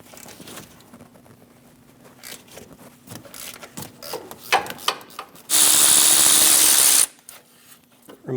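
A ratchet or power tool runs in one loud sustained burst while removing a 13mm exhaust manifold stud on a 2011-2018 Ram 1500 5.7L V8, with scattered clicks and tool handling before it.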